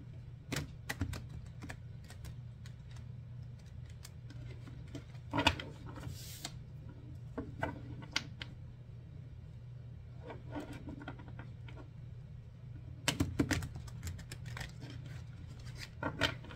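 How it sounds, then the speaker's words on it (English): Tarot cards are shuffled by hand in a quiet room, giving soft riffling and slapping bursts with a few louder flurries over a steady low hum, with no voice. "I'm just going to shuffle here a couple more times."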